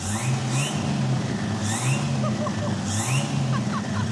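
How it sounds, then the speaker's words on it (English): The engine of a turbocharged Jeep Wrangler with a custom-built exhaust runs steadily and loudly close by, with a spooling whistle that rises and falls at regular intervals over a constant rumble. "I was able to get my Jeep Wrangler running with a turbocharger spinning"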